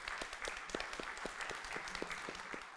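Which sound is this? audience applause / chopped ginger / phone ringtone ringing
audience applause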